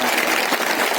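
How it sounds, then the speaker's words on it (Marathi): An audience at a Marathi kirtan gathering claps in a sustained, even burst of applause, fairly close and continuous for the full second without a break. "वाजवता का टाळ्या?"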